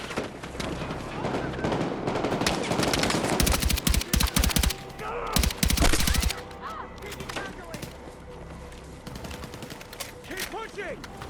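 Gunfire in the Battlefield 6 video game campaign: dense bursts of automatic weapon fire and scattered shots from near and far, heaviest in the middle and tapering off, with shouted voices in between.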